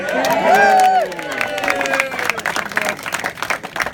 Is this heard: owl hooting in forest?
no